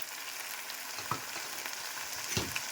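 Taro greens frying with turmeric and salt in a pan, a continuous close sizzle broken by a couple of soft scraping stirs, with no talking.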